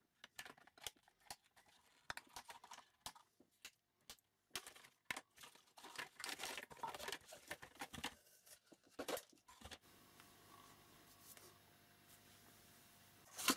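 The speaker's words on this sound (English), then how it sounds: "here's some vinyl straps that I'm gonna cut now" Scissors cut vinyl straps off the packaging of an X-Shot Insanity Ragefire blaster, producing a run of sharp snips and crinkly plastic handling close by, then quieter rustling toward the end.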